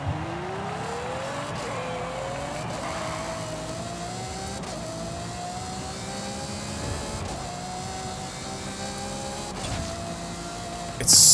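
A new Ferrari in Forza Horizon 5 revs and accelerates through several gear changes, its raspy engine note rising and stepping down repeatedly, steady and fairly loud with no music or talk.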